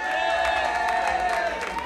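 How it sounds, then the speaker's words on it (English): An evening country music TV show audience at The Chateau claps and cheers for the host, a close, continuous mix of hand claps and raised voices that holds steady throughout. "let's have a nice round of applause for our host this evening, Mr. Nep Coleman from right there at the Chateau"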